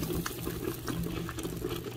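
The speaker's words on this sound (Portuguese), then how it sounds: "Deixar fervendo aí, ó." Broth for pirão de galo boils in a pot, a dense steady bubbling and simmering texture heard close up for a couple of seconds, no talking.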